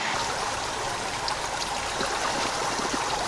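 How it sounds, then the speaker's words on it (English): A refreshing face mist spray at the Shangri-La Al Husn Resort in Muscat, Oman, gives off a steady, close, airy hiss that fills the whole moment without pause. "refreshing face spray"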